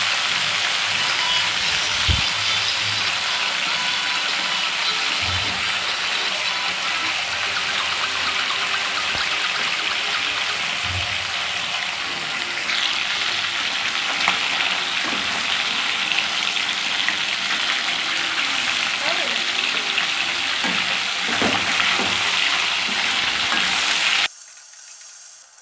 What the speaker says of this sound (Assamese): তেল হালধি আৰু নিমখ একেলগে দি লৈ কেনে ইয়াতে ফ্ৰাই কৰি ল'ম মাছখিনি এতিয়া মই